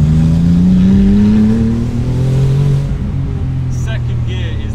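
A 900 HP modified Porsche 911 Turbo with twin throttle bodies pulls hard in second gear, its engine tone climbing steadily, loud and close, with a voice talking over it and a sharp transient near the end.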